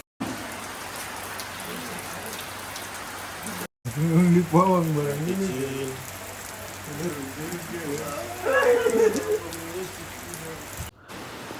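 Steady night rain patter fills the whole clip, with someone talking over it in the middle.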